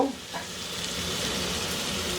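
Previously fried flat beans and potatoes are tipped into a hot pan of oil and stirred, giving a steady, close sizzle with a scrape at the start, with no voices.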